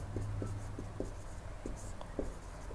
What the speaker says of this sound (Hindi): चलिए हम परिभाषा भी लिख देते हैं।